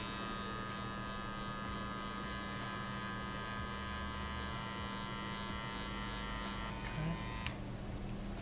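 Electric hair clippers with a 1.5 guard, clipper open, buzzing steadily and close throughout a low taper fade haircut, with a sharp click near the end.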